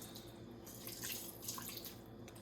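Tap water runs steadily into a sink while raw chicken pieces are rinsed with vinegar, the stream splashing and gurgling close by, with no talking.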